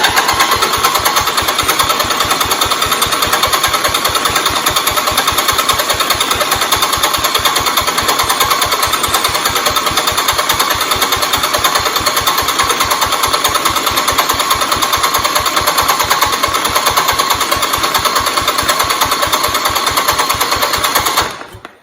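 The single-cylinder engine of a 1971 Hydraulic Lift 110 garden tractor, freshly fitted with a new head gasket, runs loud and steady with a rapid even chugging for about twenty seconds before cutting off abruptly.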